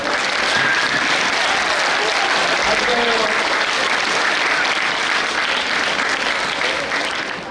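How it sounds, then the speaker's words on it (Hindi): Loud, steady audience applause fills a prize distribution ceremony, dense clapping sustained throughout before tapering slightly at the end. "ताली बजाया जाए।"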